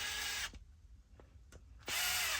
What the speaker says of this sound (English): You can hear the drill when the motor sound starts to slow down a little.